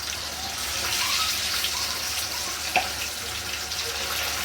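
Garlic kebab pieces frying in hot oil, a continuous close bubbling sizzle with a faint pop partway through and no voices.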